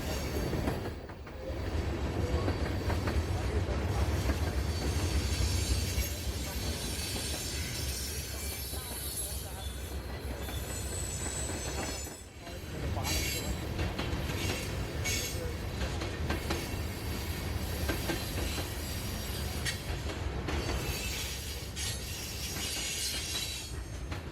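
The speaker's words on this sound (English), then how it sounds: "our first train is shown right here, NS Northbound Manifest 170, out of DeVutt's Yard in Chattanooga, Tennessee to Conway, Pennsylvania." Norfolk Southern northbound manifest freight train 170 rolls past in Tennessee with a sustained rumble of wagons, wheel squeal and rhythmic clatter, steady and fairly close for the whole stretch.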